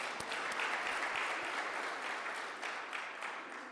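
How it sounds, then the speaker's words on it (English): Steady applause from an audience at a public policy consultation meeting, heard at a distance and fairly soft, with a few sharper individual claps standing out and fading slightly toward the end. "Can we give them a round of applause?"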